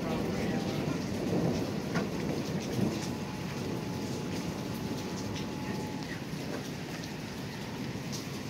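Heavy rain pours steadily during a thunderstorm as deep thunder rumbles and rolls underneath, a dense, continuous wash of sound with no voices.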